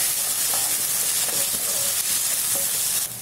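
Chopped tomatoes and green chili sizzle steadily in a hot pan, a dense, loud, even frying hiss with faint scrapes of stirring.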